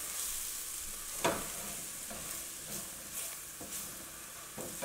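A spoon stirs flour into a greasy soup base for a copycat Zuppa Tuscana in a pot, with soft scraping strokes and one sharper knock against the side over a faint steady sizzle.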